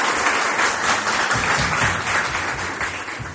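A church congregation applauds steadily, a dense wash of clapping that holds at full strength and tapers slightly at the end.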